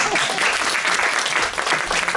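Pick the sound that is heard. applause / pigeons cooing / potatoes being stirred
applause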